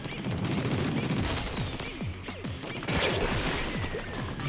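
Octoballs exploding in the Splatoon video game: a loud, busy run of game sound effects with repeated bursts, crashes and sweeping tones over continuous music, with no talking.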